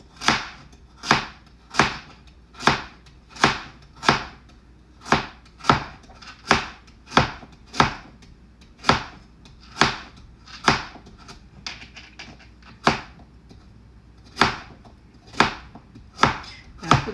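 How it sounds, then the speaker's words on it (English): A knife chops through a carrot on a cutting board with about two dozen sharp, evenly spaced knocks, loud and close, with a few quicker bursts in the middle and no speech. "so we'll just chop up the carrot"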